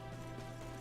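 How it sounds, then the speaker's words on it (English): Steady rain in the Dragon Quest 11 video game, a soft continuous hiss of falling drops with a low hum underneath, even and unbroken throughout. "oh, the rain's clearing up"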